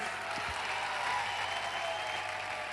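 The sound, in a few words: audience applause for Parimal sir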